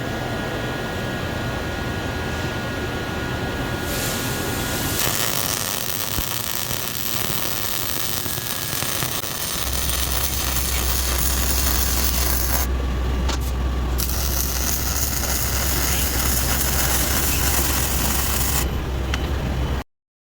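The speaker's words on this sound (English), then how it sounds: "I'm gonna go ahead and weld it up real quick" MIG welding a Lincoln Town Car rear differential housing to steel tubing, a steady close crackling hiss running continuously with a deep low hum joining partway through, no voices.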